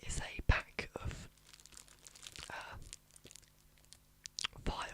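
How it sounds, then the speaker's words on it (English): Crinkly plastic packaging around a pack of file separators is handled up close, giving soft irregular crackles and rustles at low volume, with quiet whispered speech mixed in. "they're in a crinkly packaging, as you can hear there"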